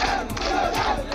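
A crowd of Hindu protesters raises a loud commotion at a police station, a dense continuous roar of many shouting voices with surging cries, close and steady throughout.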